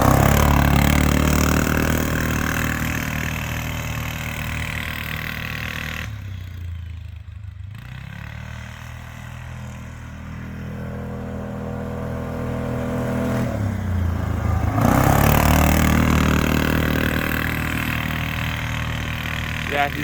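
A 2000 Kawasaki Prairie 400 4x4 ATV runs a hot lap around a horse arena, engine droning steadily with loud rough revving that fades mid-lap and surges back as it passes near, clattering throughout.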